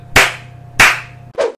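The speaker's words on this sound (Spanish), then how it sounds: "Un aplauso para Marsella." Hand clapping during a FIFA 18 football game session, three sharp claps at uneven intervals, close and loud, the last one shorter and duller.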